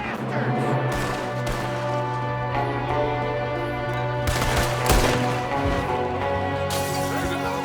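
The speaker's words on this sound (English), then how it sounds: "There's another one shooting from the window." Gunfire in the video game Red Dead Redemption 2 during a shootout, with loud cracking shots and bursts over a dense, steady game soundscape with music.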